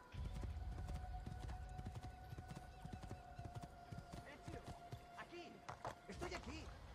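A horse gallops in the video game Assassin's Creed 2, a steady, rapid clip-clop of hooves with a brief whinny, running under continuous excited talk from a player.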